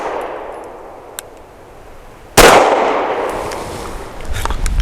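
A single sharp gunshot from a BUL Armory Axe FS Cleaver pistol firing Koenig's 110 grain jacketed hollow point, a loud close crack with a short ringing tail over faint background hiss.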